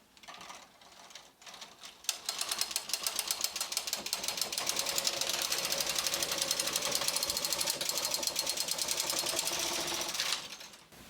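A Brother 260 knitting machine with ribber knits a circular cowl, the carriage sliding back and forth in a loud, fast clattering rattle that starts after a couple of seconds, runs steadily, then stops.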